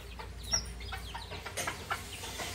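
Chickens cluck in a bout of close, busy activity at feeding time, with short overlapping calls and scratchy noise in a continuous, lively stretch.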